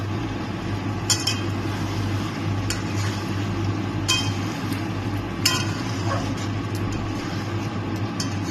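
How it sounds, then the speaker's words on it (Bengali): Potatoes stirred with a freshly ground paste of ginger, garlic, green chilli, onion and cumin in a pan, with occasional sharp scrapes and clinks of a spoon over a steady low hum, no talking. "মশলাটার সাথে আমি আলুগুলোকে ভালো করে কষিয়ে নিচ্ছি"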